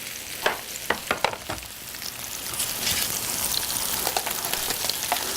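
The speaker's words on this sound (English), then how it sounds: "So I'm coloring the salmon on all sides." Salmon sears in a hot pan alongside fennel, giving a steady close sizzle with sharp spitting pops and crackles in the first seconds, then a denser, even frying hiss.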